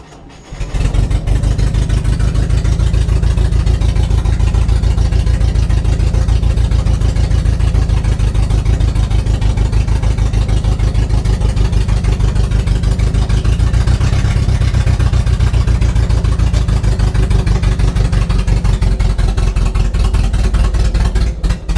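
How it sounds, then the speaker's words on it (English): A rare U.S. postal Scout, left sitting for 50 years, cranks and catches, then runs steadily with a loud, low rumbling idle that stays close and constant throughout. "So I may have to try to start this thing in gear"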